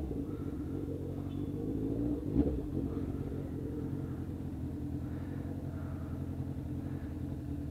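A Honda Hornet motorcycle fitted with an Atalla exhaust idles at slightly raised revs, a steady low rumble with one brief blip partway through and no talk.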